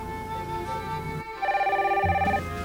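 A telephone rings indoors, a bright electronic warbling trill that repeats rapidly and sits loud and close, with no talk over it.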